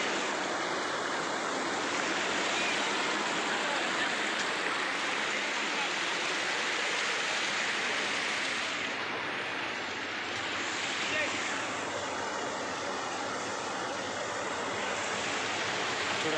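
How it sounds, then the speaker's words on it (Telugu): A waterfall pours steadily from above during a mountain trek, a loud, continuous rushing roar of falling water that holds evenly throughout, with some wind buffeting the microphone. "వాటర్ ఫాల్ అనేది పైనుండి పడుతున్నాయండి."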